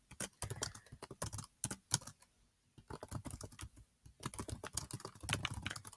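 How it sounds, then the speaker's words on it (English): Fingers tap a computer keyboard in quick irregular bursts, with a brief pause in the middle before the clicking picks up again, close and fairly quiet. "again, I can't type."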